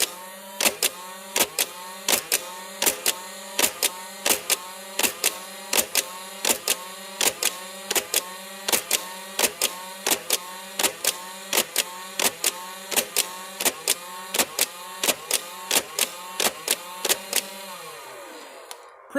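Big Power Electric 505 Nerf-style blaster firing a steady, rapid run of sharp mechanical shots over a whirring motor, about twenty evenly spaced bursts close up, ending as the motor winds down.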